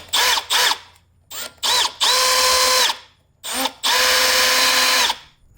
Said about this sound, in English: Here's a better center drill.